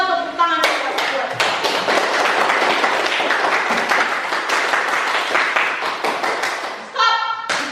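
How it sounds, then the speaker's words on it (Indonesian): A class of students clapping together in a classroom, dense close applause filling most of the clip and breaking off near the end, with voices heard at the start and finish. "tepuk tangan kita buat"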